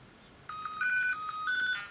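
Electronic beeping tones from Pac-Man on a Blaze Atari 2600 handheld start abruptly and warble unevenly for a second or so, close and fairly loud against a quiet background.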